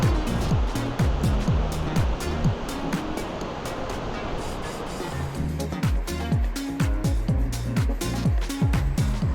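Fast water of the Kern River rushes steadily and loudly close by, a broad continuous roar with a low rumbling bed, no voices over it.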